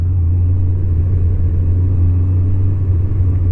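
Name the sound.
Kawasaki ZZR 1100 motorcycle riding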